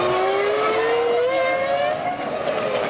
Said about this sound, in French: Alors, Jacques Villeneuve vient de passer devant nous